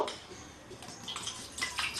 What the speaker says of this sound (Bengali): আমি কড়াইতে এবার জল দেব